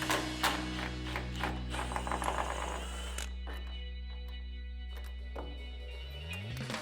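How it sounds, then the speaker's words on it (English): Impact wrench with a 16mm socket loosening a sway link bolt during a Rough Country 3-inch lift install on a RAM 1500: a few seconds of irregular rattling bursts over a steady mechanical hum, which then continues alone. "to loosen this, we're going to be using a 16mm socket and an impact"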